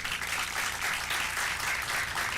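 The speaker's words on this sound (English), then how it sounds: "Let's give them a round of applause if we could." Steady audience applause fills a high school graduation ceremony hall in Brockton, honoring city councilors; dense, even clapping continues throughout at moderate distance with no voices over it.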